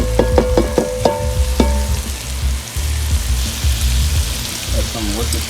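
Celery and onion hit a hot pan for braised beef ribs with Marsala, giving a sizzle and some stirring clatter, with sharp knocks of utensils early on, then a steady frying hiss.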